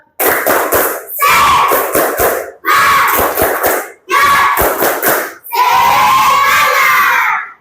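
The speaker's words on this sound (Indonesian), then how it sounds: "Tepuk semangat." A school class in Indonesia performs a rhythmic spirit clap chant, loud bursts of unison clapping and shouted chanting in several phrases separated by brief pauses, ending in a longer sustained group cheer.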